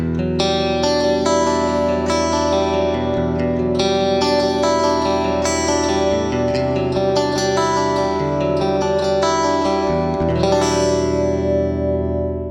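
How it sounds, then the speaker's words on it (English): A clean, Rockman-style electric guitar runs through a Lexicon PCM81 rack reverb, strummed chords and single notes blooming into long, lush, shimmering tails that wash together, loud and steady with no talking. "let's just tweak the overall amount of reverb on here"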